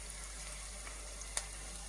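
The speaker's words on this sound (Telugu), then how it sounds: "ఆయిల్ కూడా హీట్ అయింది. ఇంకా మనం ఇలా పకోడీ వేసుకోవడమే." Onion pakoda frying in hot oil gives a faint, steady sizzle with one brief sharp pop partway through.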